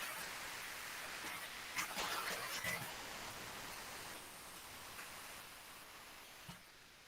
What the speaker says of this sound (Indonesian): Oke, udah mulai hujan ini.